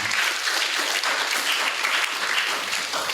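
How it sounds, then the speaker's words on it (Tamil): A church crowd at a feast-day gathering claps in thanks, dense continuous applause filling the space evenly from start to finish, no voices breaking through. "ஆகவே அவங்களுக்கும் கைத்தட்டி நம்முடைய நன்றிகளை சிறப்பாக"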